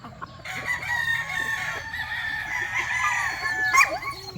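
Chickens and a rooster in a backyard coop, continuous clucking and squawking from several birds close by, with a rising crow-like call near the end.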